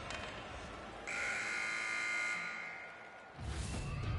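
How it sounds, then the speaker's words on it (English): An end-of-period buzzer at an ice hockey game sounds one flat electronic tone for just over a second inside a noisy arena, then a swell of crowd noise follows. "There's the buzzer."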